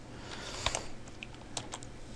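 Quiet, scattered keystrokes on a computer keyboard while someone works in Roblox Studio, a few clicks landing close together, then sparser taps.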